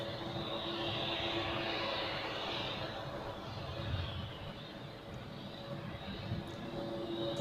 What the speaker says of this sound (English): Helvetic Embraer 190 to Bologna in Italy